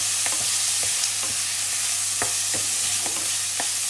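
Ant eggs frying in a pan, crackling under a constant sizzle with scattered sharp pops and stirring clicks at irregular intervals.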